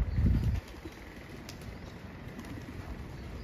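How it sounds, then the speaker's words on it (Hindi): A flock of pigeons on a Bangkok street bursts into flight in a loud, close flurry of flapping wings that fades quickly into quieter street ambience. "ये देखो कितने सारे कबूतर, किसी ने शायद इन्हें दाना डाला है"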